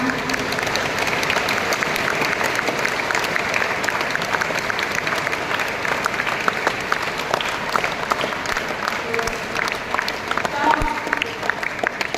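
An audience at a school Founders Day celebration applauds in a continuous, dense wash of clapping that holds steady at fairly high level throughout, with a crowd murmur and some voices mixed in under it.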